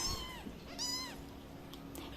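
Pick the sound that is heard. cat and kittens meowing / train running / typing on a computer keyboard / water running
cat and kittens meowing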